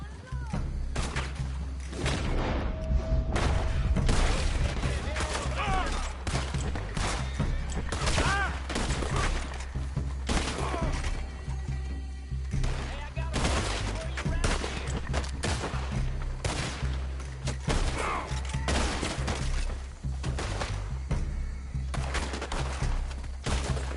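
Repeated gunshots crack and rattle during a chaotic Red Dead Redemption 2 shootout near a wagon, loud and close, layered over dense game noise and overlapping shouting voices.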